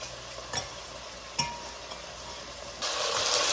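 Onions and garlic cooking in a pan for a shrimp cream sauce, giving a soft, steady sizzle with two light stirring knocks, then a louder, brighter frying hiss near the end.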